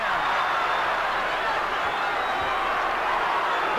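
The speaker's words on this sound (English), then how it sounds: "The crowd loves it." Wrestling arena crowd at a 1983 women's tag match, a steady roar of cheering and hollering that stays loud and even throughout, with no breaks.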